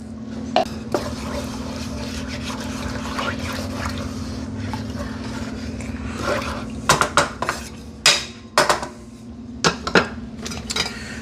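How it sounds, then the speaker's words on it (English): Chicken stock and heavy cream being whisked in a pan, a low steady hum beneath scraping strokes, then sharper metallic clinks and taps of a whisk against the pan, close and without talk. "Definitely grab your whisk and whisk it up."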